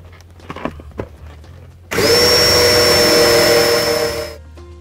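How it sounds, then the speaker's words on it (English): Self-drilling sheet metal screws driven into a truck cab wall to mount a ClimaCab electric APU evaporator; a loud, steady high-pitched drill whine runs for about two and a half seconds after some quieter handling clatter, then cuts off. "Attach the evaporator to the cab wall using 4 self-drilling sheet metal screws."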